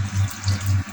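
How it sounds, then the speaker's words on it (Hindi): Water pours into a pot of arbi gosht, a meat and taro root curry, as a close, steady gushing splash with a low bubbling pulse. "अब इसमें लगाते हैं पानी।"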